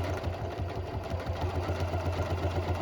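A Janome Continental M7 sewing machine stitches with dual feed engaged, a quiet steady mechanical hum with a fast, even needle rhythm throughout.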